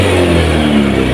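A Honda Beat motorcycle with a rough, sluggish starter and a fault that makes it reluctant to rev runs loudly and up close, its steady engine drone rising slightly under throttle throughout the short stretch.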